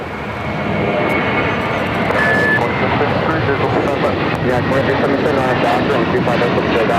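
A JetBlue Airbus A321 airliner roars past at LAX, a steady loud broadband jet rumble filling the whole stretch, heard from a nearby parking garage vantage with a faint tonal whine on top.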